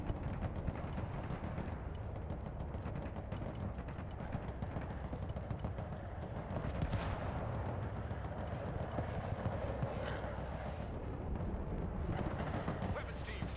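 Bomb strikes in the Broken Arrow military strategy game: a dense, continuous barrage of booming blasts and crackling impacts, loud and sustained, with radio chatter and voices mixed in.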